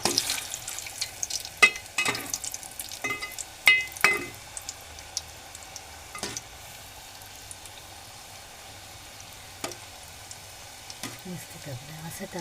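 Spoonfuls of corn fritter batter drop into hot oil, giving a soft continuous sizzle punctuated by sharp spoon clinks and knocks against the pan, close by.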